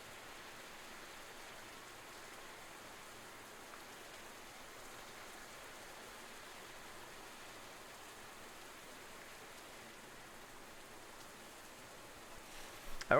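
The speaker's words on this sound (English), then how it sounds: "Oh, it's raining, of course." Rain in the video game Rise of the Third Power falls as a faint, even hiss of steady downpour that continues unbroken throughout, with no voices over it.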